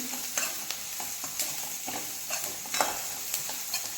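Vegetables for chicken manchow soup fry in a pan with a steady, soft sizzle. Brief scraping taps from the stirring utensil recur every half second or so.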